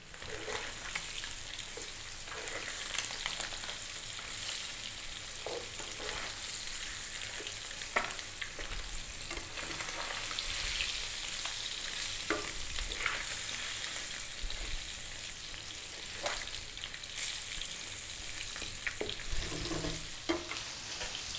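A spiced fish fillet fries in oil at just above medium heat, with a continuous soft sizzle and crackle. Occasional pops and light utensil touches break in, with no voice over it.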